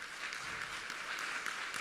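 An audience applauds at a talk on generalized anxiety and panic disorder, a faint, even patter of many hands clapping continuously through the short stretch.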